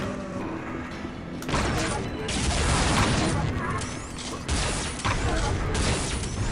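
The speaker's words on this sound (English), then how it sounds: "this is a great gun, the flat cannon" Flak cannon firing in the first-person shooter Unreal, with dense loud bursts of metallic blasts and clanking mechanisms that run continuously, close and loud.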